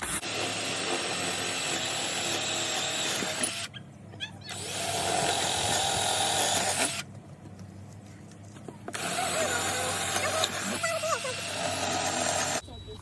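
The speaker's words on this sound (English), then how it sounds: "drill your holes" A power drill whines steadily while boring holes near a tree stump, running in three long bursts separated by brief pauses, loud and close with no talk over it.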